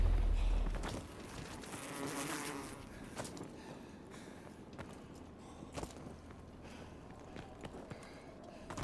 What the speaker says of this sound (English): That sounds like flies buzzing.